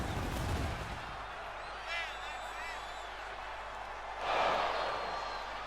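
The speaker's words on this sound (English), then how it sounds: "Oh, look at the pyro and the fireworks there." Pyro and fireworks blast during a wrestler's entrance in the video game WWE 2K22, with crackling bursts and whistling shots over a constant arena roar, rising into a louder burst near the end.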